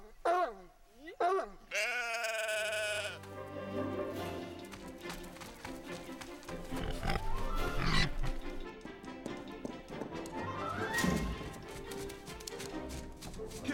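Bleats of a goat from the film Air Buddies come in a few quick wavering cries at the start, then give way to a loud music score with voices talking over it.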